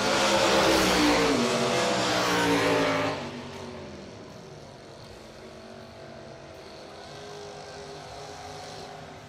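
A loud drag racing car roars close by on an entry time run at a bracket racing event, then fades into a softer, distant engine drone.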